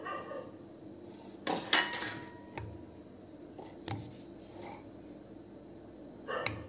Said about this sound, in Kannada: ನೋಡಿ ಇವಾಗ ಬೇರೆ ಪಾತ್ರೆಗೆ ಹಾಕ್ತಾ ಇದ್ದಾರೆ